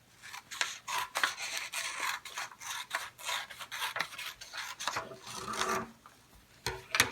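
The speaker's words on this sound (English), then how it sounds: "take your sheet of paper and your scissors and cut a strip along the long side of it" Scissors snipping a strip along the long side of a sheet of paper for a science experiment: a quick run of close, dry rasping cuts with brief pauses, no talking.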